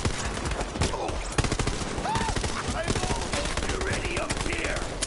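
Rapid video game gunfire with dense automatic bursts and individual shots cracking continuously throughout, loud and close, with occasional speech underneath.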